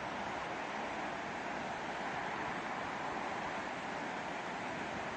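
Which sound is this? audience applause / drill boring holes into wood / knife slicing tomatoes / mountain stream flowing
mountain stream flowing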